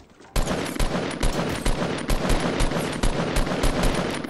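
Automatic gunfire from a green assault rifle in Fortnite, fired at long range: a loud, fast string of sharp bursts that starts abruptly and keeps going, with no talking over it.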